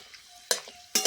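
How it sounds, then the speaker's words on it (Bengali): Two whole garlic cloves drop into hot oil already tempered with dried chillies and whole garam masala for a goat-head curry, raising two short, loud bursts of sizzling over a quieter background. "ফোড়নটার সাথে দিয়ে দিচ্ছি দুটো গোটা রসুন"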